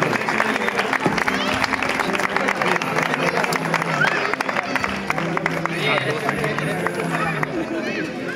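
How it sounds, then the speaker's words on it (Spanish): Audience applause at a pairs tournament prize-giving, steady dense clapping from a crowd with babble and voices throughout, loud and continuous across the whole stretch. "Un aplauso para ellos."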